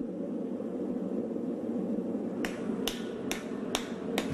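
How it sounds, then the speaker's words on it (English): A blacksmith hammers a steel bit onto an axe head, with four sharp, ringing metal strikes spaced about half a second apart over a steady low roar like a forge fire. "In a ballet of heating, hammering, and reheating, he adds the steel bit."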